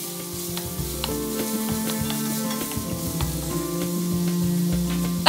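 Chopped onion and sliced garlic sauté in butter in a two-liter pot over medium heat, a continuous close sizzle punctuated by light stirring clicks and scrapes, with no voices.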